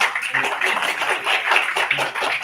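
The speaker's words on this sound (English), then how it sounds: "A huge round of applause for Abhijit Ghosh sir." Applause from a film festival audience at a university student film event: dense, steady clapping sustained throughout, fairly loud and close, with no voices clearly standing out.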